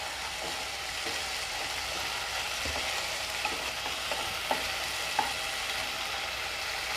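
A rice mixture with spring onion greens and coriander stirred in a hot pan, producing a soft continuous sizzle with light scraping strokes and a few sharp utensil taps toward the end.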